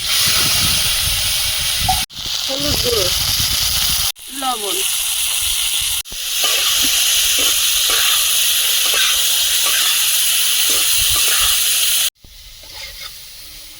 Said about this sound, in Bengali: কড়াইতে তেল দিয়ে দিচ্ছি ডিম বেগুনের বেগুনটা তেলে দিয়ে দিচ্ছি